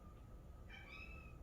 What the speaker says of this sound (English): I know you can hear the cat outside.